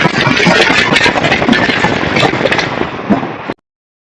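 A 2015 Corvette Stingray engine runs steadily while the car reverses, a loud, close, even rumble with no talk over it, cutting off abruptly just before the end.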